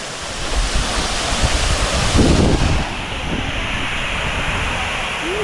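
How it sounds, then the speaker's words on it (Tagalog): Tuay Falls in Rizal pours heavily into its pool, a dense continuous roar of falling water with wind buffeting the microphone, loud and close throughout. "Ganda ng bagsak ng tubig niya."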